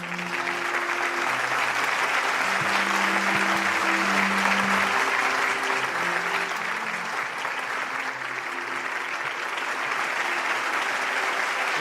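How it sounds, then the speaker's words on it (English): An audience at the 2021 Hyojeong Youth Blessing Festival applauds in a warm, sustained round of dense clapping that stays loud and even from start to finish. "warm round of applause as they do so on our behalf."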